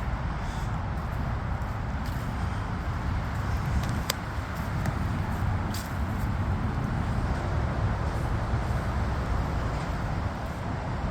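Dense, steady road traffic roars from the motorway beside a service area, a continuous broadband wash of passing cars and lorries with no clear breaks.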